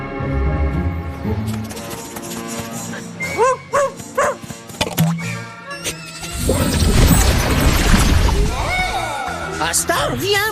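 The cartoon dog Asta in the animated series Ghost Force barks and yips in short bursts, followed by loud crashing and shattering over busy music, with voices heard around it.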